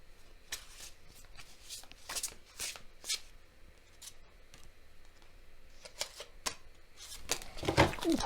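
Tarot cards shuffled by hand in a string of quick riffling bursts, close and fairly quiet, with a louder flurry at the end; no talking.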